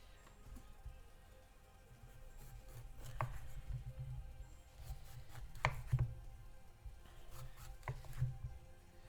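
A knife cuts chicken into big chunks on a board in a home kitchen, making a few faint, sparse chopping thuds in a quiet room.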